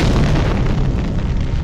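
Bomb detonation: a loud, sustained explosive roar with dense rumbling low end, filling the whole short stretch without any speech.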